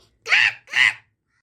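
A crow caws twice in quick succession, two harsh, loud calls close by, then silence.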